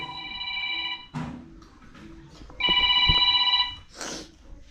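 A mobile phone rings indoors at a home, its electronic ringtone sounding in repeated bursts close by amid rustling, handling noise and background bustle.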